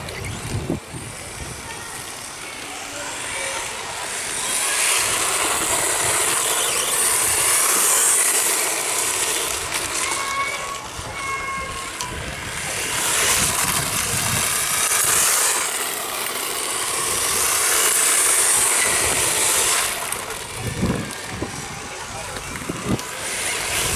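An ABSIMA ATC brushless RC car on a 3S LiPo whines past on a damp surface, its high motor pitch swelling and fading in repeated passes over steady outdoor noise, moderately loud.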